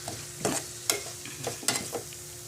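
Mint leaves sautéing in a pan for biryani, stirred with several sharp scraping strokes spaced irregularly over a soft continuous sizzle, close and moderately loud.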